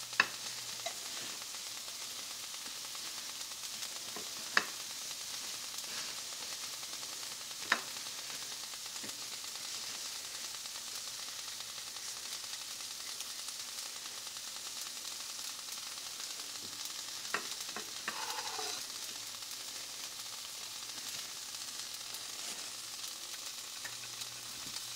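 Shrimp frying in a pan make a soft, steady sizzle throughout, close but quiet, with a few faint clicks and stirring sounds.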